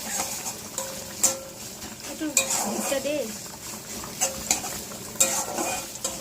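Onion fries in a pan under a soft sizzle, while a spatula scrapes and clinks against the metal in an irregular rhythm. A voice speaks briefly partway through.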